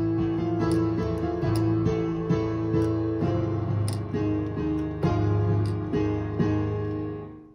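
Piano playing the FNaF movie intro: a repeating sequence of struck notes and octave chords with a steady pulse, sounding clear and close, with notes ringing and decaying at the close.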